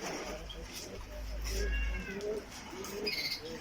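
Pigeons coo and small birds chirp in short, scattered calls inside a bird seller's shop in Settat, Morocco, heard under a steady background murmur with people talking nearby.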